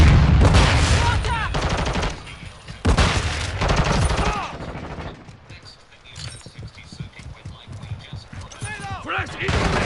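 Gunfire in Call of Duty Modern Warfare 2 comes as bursts of loud, sharp rapid shots in the first half, then fades to scattered fainter pops and game effects beneath voice callouts.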